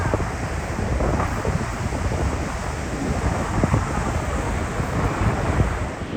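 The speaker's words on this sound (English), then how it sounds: "What do you call those waves? The freak waves? Sneaker waves." Continuous roar of ocean surf breaking on a south Iceland shore, with gusty wind buffeting the microphone throughout; no voices.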